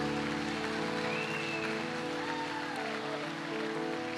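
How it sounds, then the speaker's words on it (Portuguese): A church congregation applauds during a sermon, a steady wash of clapping over sustained keyboard chords that continues throughout. "Dê um aplauso ao Senhor."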